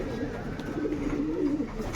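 A wild pigeon coos steadily at close range in a domestic setting, a soft, continuous low murmuring call that carries through the whole moment with no speech.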